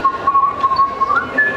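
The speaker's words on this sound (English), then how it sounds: "the whistling oyster made its first appearance" At the Guinness brewery in Dublin, the whistling oyster exhibit gives a loud, sustained whistle that wavers slightly before rising in pitch near the end.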